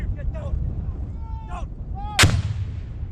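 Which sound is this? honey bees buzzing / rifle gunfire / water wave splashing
rifle gunfire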